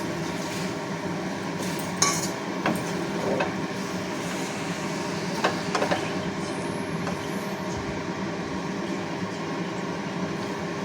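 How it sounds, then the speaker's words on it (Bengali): Raw prawns tipped into a pan of kochur loti (taro stolons) over medium heat and stirred, with metal spatula clinks and scrapes against the pan over a steady cooking hiss. "এবার আমরা চিংড়ি মাছটা দিয়ে দেবো"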